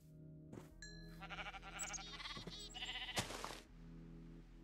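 A sheep in the Minecraft video game bleats several times in quick wavering calls, clear and alone against a quiet steady background hum.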